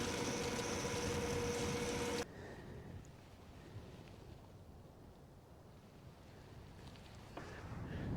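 An Asa Lift carrot harvester runs with spinning knives and star cleaners shaking soil from the roots, giving a steady loud mechanical drone that drops sharply after about two seconds to a quieter, rougher rumble with wind noise.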